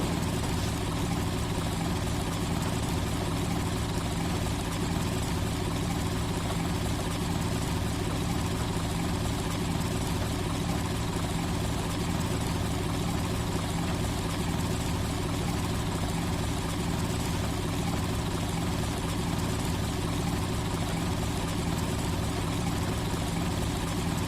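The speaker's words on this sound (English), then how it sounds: "Engines are humming." Diesel locomotive engines in the Trainz 2019 train simulator hum steadily at low speed, a constant low drone with a faint mechanical hiss, even and unbroken throughout, with no talking.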